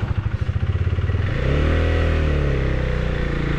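A Husqvarna Vitpilen 401 single-cylinder motorcycle, sharing its engine with the Duke 390, pulls away with a pulsing low thump, then the revs climb into a smooth rising engine whine, close and loud.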